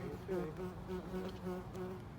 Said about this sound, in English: there's a bee trying to sting me